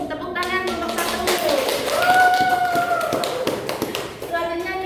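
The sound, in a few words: classroom clapping for group 1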